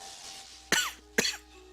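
A person gives two sharp, close coughs about half a second apart over a faint, steady background hum.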